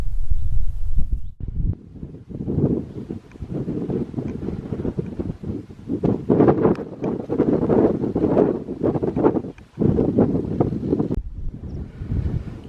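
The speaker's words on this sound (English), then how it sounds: "quite blowy up on the top, which is not surprising. So exposed up here." Strong gusts batter the microphone on an exposed hilltop looking toward Criffel and the Solway, a loud continuous roar that surges and briefly drops away, with no talking.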